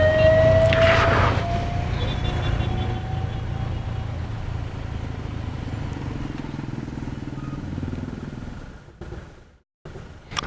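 A Benelli TRK 502 motorcycle engine idles steadily close by, a low rumbling drone that runs evenly and then cuts out abruptly near the end as the engine is shut off.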